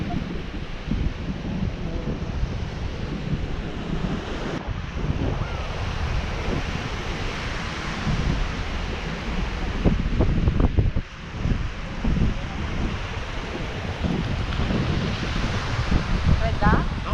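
Surf washes steadily onto the shore in the Lofoten islands while wind buffets the microphone, a continuous broad roar with swelling breaks and no pauses.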